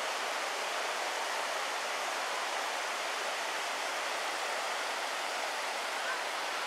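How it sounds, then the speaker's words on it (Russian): The Peshcherka river in the Altai mountains rushes just below a waterfall near a cave in summer, a constant, even roar of flowing water with no pauses or other sounds. "Внизу течет речка Пещерка. Это уже после водопада."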